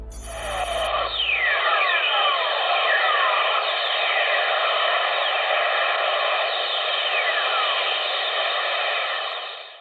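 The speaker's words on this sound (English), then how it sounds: "This is what lightning sounds like on Earth from space as detected by spacecraft above Earth's ionosphere." Whistlers, lightning signals picked up by a spacecraft above Earth's ionosphere: a hiss of static over a steady hum, with repeated descending whistling glides sweeping down in pitch, several in succession.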